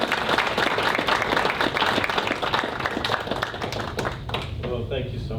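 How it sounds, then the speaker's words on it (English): A school board meeting audience applauds a retiree after 23 years of service, steady dense clapping throughout, fading slightly toward the end. "So just one more round of applause"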